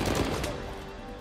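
A single gunshot headshot in the video game Uncharted: A Thief's End, a sharp close crack that quickly decays into a reverberant tail.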